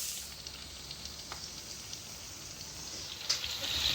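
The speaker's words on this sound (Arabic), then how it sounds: "هسه راح ابدي اقلي بقيه الغرض" Eggplant and potatoes frying in hot oil for an eggplant béchamel bake, giving a steady, soft sizzling hiss with faint crackles and a slightly louder pop near the end.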